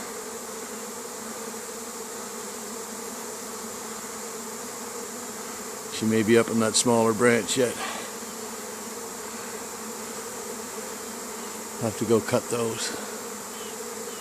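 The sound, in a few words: honey bee swarm buzzing at an apiary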